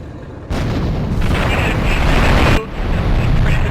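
A plane explodes in GTA 3 with a sudden loud roaring blast that rumbles on steadily, briefly dips, then surges again in a dense, noisy wash.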